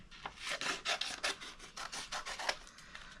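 A craft piece being trimmed on a Cricut project, heard as a rapid series of close, dry scraping and rubbing strokes in an uneven rhythm, moderately loud with no voices.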